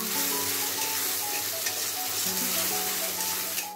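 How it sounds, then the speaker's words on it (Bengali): Tomato and spice masala frying in a pan, a loud steady sizzle with faint scraping of stirring, close and continuous with no talk. "দিয়ে টমেটো মশলা একসাথে কষা করে নেব।"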